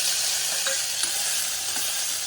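Onion and garlic sauté in hot oil for a bitter gourd curry, a brief, loud, steady sizzle close by with no talking.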